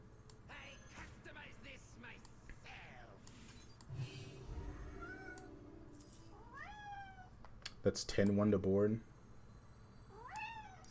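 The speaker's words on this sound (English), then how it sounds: "My cat's trying to get my attention." A pet cat meows for attention, giving several short rising meows and one louder, longer call near the end, close by in an indoor room while someone talks intermittently.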